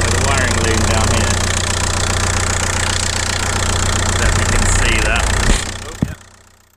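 A 1.9 TDI diesel engine idles in an open engine bay with a steady low clatter and hum, then stalls out near the end and winds down to quiet.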